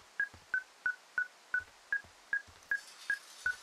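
Tracking device in the video game Firewatch beeping in a steady, fast series of about ten short, sharp electronic tones, evenly spaced and fairly faint.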